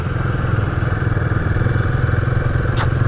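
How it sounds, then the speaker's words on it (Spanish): A small motor scooter engine buzzing loudly nearby with a rapid, steady putter, joined briefly by a short high clatter near the end. "la gente recorre estas vías en estas motonetas"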